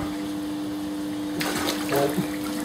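Water splashing in a short rushing burst that starts abruptly partway through and fades, heard over a steady background hum.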